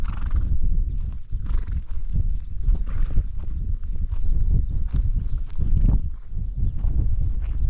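Horses shedding their winter coats whinny and neigh while hooves clip-clop in a steady walking rhythm, close and continuous, with wind in the background.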